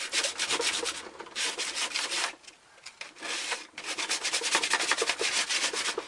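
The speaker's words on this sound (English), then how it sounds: "But if you want to, just sand it, just like I'm doing with this part." Hand sanding of a part for an Evil Dead chainsaw arm prop: steady back-and-forth rasping strokes, close and clear, with a brief pause midway before the scrubbing resumes.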